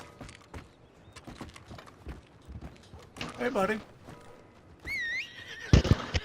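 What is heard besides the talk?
horse hooves and whinny in a video game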